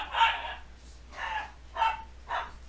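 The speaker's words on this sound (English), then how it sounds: "Sorry about my dog, guys." A dog barks indoors, four sharp separate barks in an irregular rhythm, fairly close and clear against a quiet low hum, with no talking.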